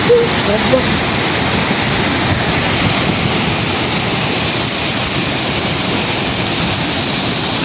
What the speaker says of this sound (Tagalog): So ito yung falls oh